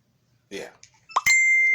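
A phone ringing for an incoming call: a few short chiming blips, then a sustained bright electronic tone that holds steady to the end, preceded by a brief murmur of sound.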